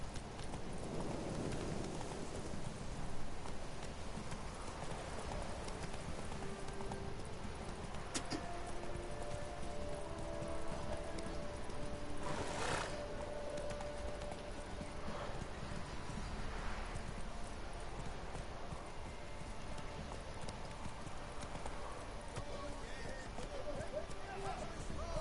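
Roach the horse from the video game The Witcher 3 trotting, a steady run of rhythmic hoofbeats under a voice calling to the horse, with faint ambient background.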